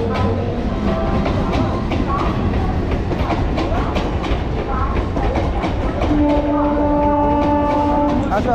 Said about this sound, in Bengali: আর এই হচ্ছে লক্ষ্মীকান্তপুর, আর এই হচ্ছে আমাদের ট্রেন।